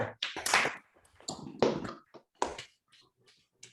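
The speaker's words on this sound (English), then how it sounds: "Let's give Glenn a round of applause" Scattered, uneven claps come through several participants' microphones during a virtual chocolate-tasting meeting, arriving in short separate bursts with quiet gaps between them and no one talking.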